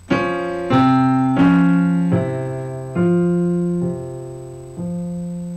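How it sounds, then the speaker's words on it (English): Closing bars of a piano piece played with a ritardando and diminuendo, with sustained chords struck at gradually widening intervals and each one quieter than the last, the final chord ringing softly. "And if I did it with the ritardando, it would sound like this."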